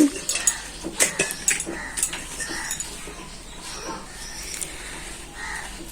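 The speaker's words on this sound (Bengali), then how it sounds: "প্রেসার কুকারে এখন আমি মাটনগুলো দিয়ে দিব" Pieces of mutton go into a pressure cooker with a burst of clattering metallic clanks and knocks, busiest at first and then settling into softer, scattered clinks.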